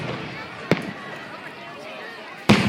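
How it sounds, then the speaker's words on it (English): Fireworks burst at a live outdoor show in Oakmont, two sharp loud bangs about two seconds apart over a quiet background hiss. "This is Rosedale Rocket Fireworks live at Oakmont"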